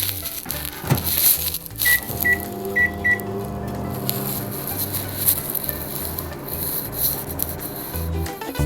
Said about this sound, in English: So it goes into the microwave and I'm going to microwave this just for 2 minutes.